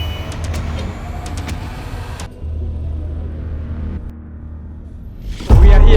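An electric matatu bus rides through Nairobi, Kenya, giving a steady low rumble of road and cabin noise with a few sharp ticks early on and a loud bump near the end.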